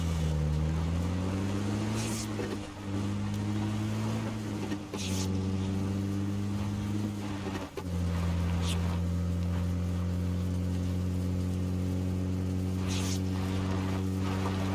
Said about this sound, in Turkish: Önümüzde araba var. Ona göre hazırlıklı olun.